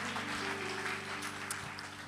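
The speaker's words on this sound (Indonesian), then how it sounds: "Mana tepuk tangannya buat Tuhan?" A church congregation applauding at a service, a continuous mid-level wash of clapping from a crowd, with no voices over it.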